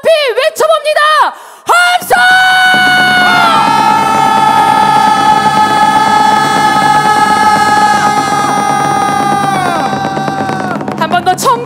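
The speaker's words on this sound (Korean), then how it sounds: "뜨거운 함성 하늘로 높이 외쳐봅니다" At a memorial rally for a coercive conversion victim, a voice calls out briefly before a crowd lets out one long, loud, sustained collective shout that swells, holds for several seconds, then trails off.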